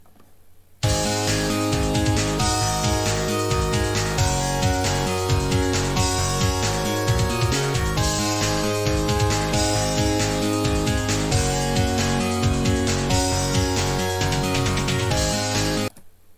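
Original arcade soundtrack music from the shooter Batsugun, a loud, dense synth track with driving bass and busy percussion that starts abruptly just under a second in and plays steadily before cutting off near the end.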